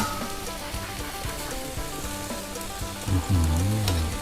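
Marinated pork intestines sizzle on a grill, a steady close crackle and hiss throughout, with a louder low tonal sound swelling near the end.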